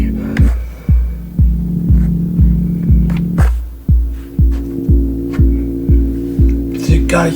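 A melodic sample from a microhouse production loops at a slowed rate, with regular deep thumping pulses repeating about twice a second under a low droning tone, loud and steady.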